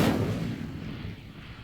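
Incendio fire spell cast in the Hogwarts Legacy video game: a single loud whooshing burst that flares up at once and fades slowly over under two seconds, with no voices.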